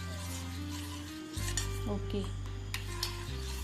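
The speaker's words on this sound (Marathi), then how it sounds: "हे दोन्ही मिश्रण दूध आणि अंड फेटलेलं ते दोन्ही मिश्रण मी मिसळून घेत" Milk and beaten egg mixtures for a caramel custard pudding are stirred together in a bowl, giving a few soft scraping strokes close by over a steady tonal background, with a brief spoken word.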